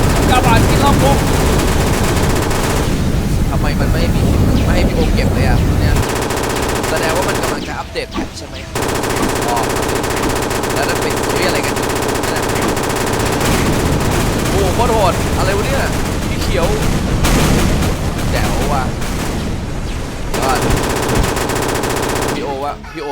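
Sustained M249 machine gun fire in a video game, loud continuous bursts with brief pauses around the middle and near the end, mixed with other game effects and occasional speech.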